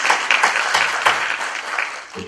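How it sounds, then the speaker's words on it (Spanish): An audience applauds a doctor about to give a talk, a dense continuous burst of clapping with some sharper individual claps, loud throughout and easing slightly near the end. "Un aplauso para el doctor para animarlo, pues, al expositor."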